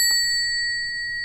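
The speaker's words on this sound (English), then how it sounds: "Let's ring the bell real fast" A small bell rung once ahead of a tarot reading gives a bright, clear ding whose ringing tone holds steady and fades slowly over about a second, heard close and alone.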